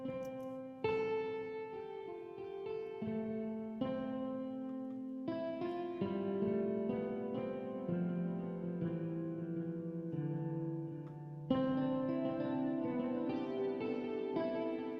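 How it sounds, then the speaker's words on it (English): A simple synth line plays a sequence of sustained, harmonically rich notes treated with echo and modulation effects, each note changing pitch in clear steps and trailing off with shimmering, swirling repeats. "I just want to give it some echo and some mod to give it movement"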